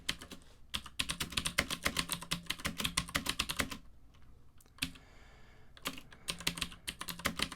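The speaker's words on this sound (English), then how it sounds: "Now I'm going to start typing." Steady bursts of keystrokes on a computer keyboard while programming a Windows Forms application, with brief pauses between runs of clicks and no talking.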